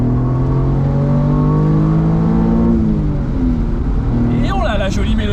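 Alfa Romeo Spider V6 3.0 24v (916 phase 2) engine revving, a steady harmonic drone that rises and falls, heard close and loud while people talk over it.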